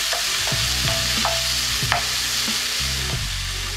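Onions frying with ginger and garlic in a pan for mutton nalli bone curry, loud steady sizzling with repeated spatula stirring and scraping strokes, close and without voices.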